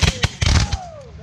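A company of muskets fires a volley at a Civil War battle reenactment of New Market. It comes as a ragged cluster of loud, close bangs over about three quarters of a second, with a voice briefly heard afterward.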